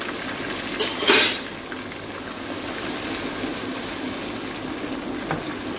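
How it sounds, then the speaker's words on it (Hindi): Ginger, garlic and tomatoes frying in a pot for vegetable biryani, with a steady sizzle throughout and a couple of brief clinks of a utensil stirring near the start. "हमारा अदरक लहसुन अच्छे से भून जाएगा"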